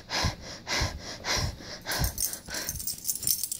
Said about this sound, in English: I'm trying a new breathing pattern so he catches on to panic breathing differently and lower breathing.